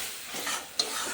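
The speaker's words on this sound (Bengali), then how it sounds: "জল দিয়ে আস্তে আস্তে কষাতে থাকবো মশলাটা" Spice masala with added water is stirred in a pan for a brief moment, a soft sizzle with a short scrape of the spoon near the end.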